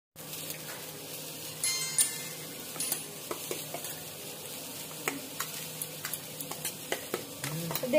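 Soybean chunks lightly frying in a pressure cooker for veg biryani, a steady soft sizzle with scattered spoon scrapes and small clicks running throughout, moderately close and without talk.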